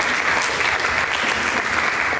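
A church congregation claps together in loud, steady, continuous applause that fills the hall from start to finish, with no voices standing out.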